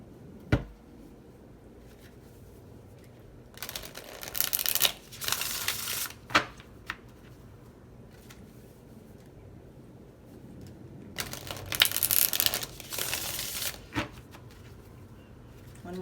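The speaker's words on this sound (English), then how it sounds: "One more shuffle." Tarot cards being shuffled by hand during a reading, in two bursts of crisp riffling and flicking several seconds apart, close and fairly quiet, with sharp taps and knocks of the deck between them and no talk.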